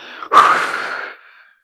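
One sharp, forceful exhale follows fast superventilation breathing, a loud breathy rush that starts abruptly, trails off over about a second and fades into quiet.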